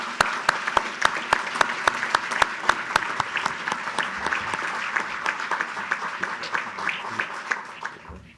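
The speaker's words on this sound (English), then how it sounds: "Let's give this FASRO a round of applause" Audience applause at an awards ceremony for Florida Missing Children's Day, sustained clapping from a crowded room with a few sharp, regular claps standing out near the start before the applause tapers off at the end.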